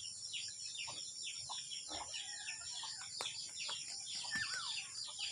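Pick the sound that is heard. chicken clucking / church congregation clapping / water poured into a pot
chicken clucking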